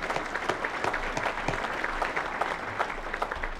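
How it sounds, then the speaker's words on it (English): Sustained audience applause at a county State of the County address, dense steady clapping from a crowd filling the room for several seconds without speech. "Let's give them a round of applause for."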